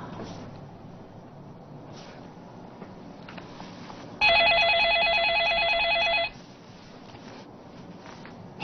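A telephone rings with an electronic, trilling bell for about two seconds, loud over a quiet indoor room tone, then falls silent.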